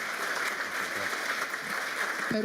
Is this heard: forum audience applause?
yes